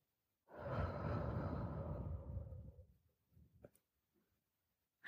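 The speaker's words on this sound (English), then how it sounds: "Breathe out." A person breathing out slowly during a relaxation breathing exercise, one long, close, breathy exhale lasting over two seconds, then fading into a few softer breaths.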